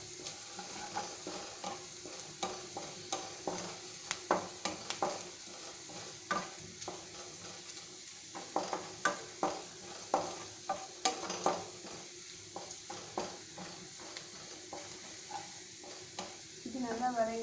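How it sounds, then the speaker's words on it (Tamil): Brinjal sabji sautéing in a pan, soft sizzling under a regular series of stirring and scraping knocks from a spatula, fairly quiet and close, with no clear talk. "நல்லா கோல்டன் ப்ரௌன் கலரில் வதங்கட்டும்"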